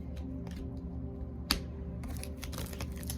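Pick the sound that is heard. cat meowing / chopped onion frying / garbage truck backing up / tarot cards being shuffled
tarot cards being shuffled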